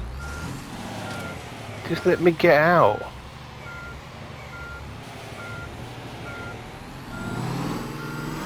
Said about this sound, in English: I've got to reverse, look, because I've got no way.